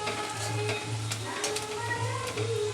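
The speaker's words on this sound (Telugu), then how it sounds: "వేయించుకోవాలి ఇలా బ్రౌన్ కలర్ వచ్చేదాకా మాత్రం వేయించుకోవాలి ఇవి ఇలా తిప్పుకుంటూ కలుపుకుంటూ ఉండాలి" Ingredients fry to brown in a pan with a steady close sizzle, while intermittent scraping and clinks of a spoon stirring run through it. No voices are heard.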